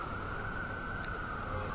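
An emergency vehicle siren holds a steady wail as it reverberates off the skyscrapers of Lower Manhattan, New York City, dense and echoing above a constant wash of street noise.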